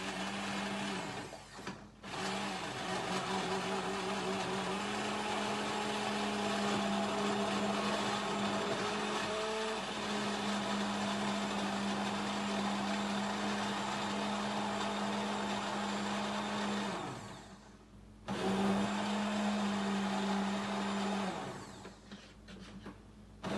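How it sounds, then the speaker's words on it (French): A blender mixes a foie gras sauce for mushroom and truffle ravioli with a loud steady whir, briefly stopping twice and then restarting. "je vais terminer la sauce avec un petit coup de mixeur"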